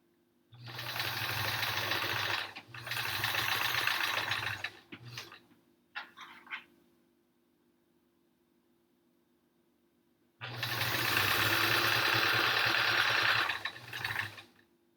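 A sewing machine stitches quilt pieces for a Triangle Tango quilt in two steady, whirring runs, with a short burst of handling noise between them and a quiet stretch before the motor starts again, loud and close.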